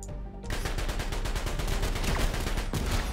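Rapid bursts of gunfire from Pro Gamer Manager 2 play loud and close, a steady stream of shots starting after a short lull and running to the end without pause.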